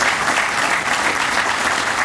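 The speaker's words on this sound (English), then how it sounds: "Can we give them another round of applause?" A crowd at a groundbreaking ceremony for the historic Boyce Thompson site claps in a steady, dense round of applause that fills the whole moment, loud and continuous.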